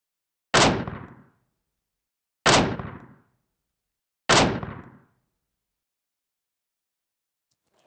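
Three loud pistol shots from a supported shooting position, evenly spaced about two seconds apart, each a sharp crack with a short decaying tail, fired alone with no talk.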